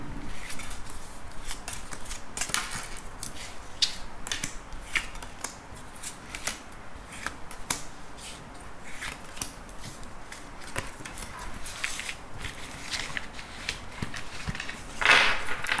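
Tarot cards being handled and shuffled for a nine-card spread, a steady close rasp of sliding, riffling card stock with soft flicks and taps throughout, no talking.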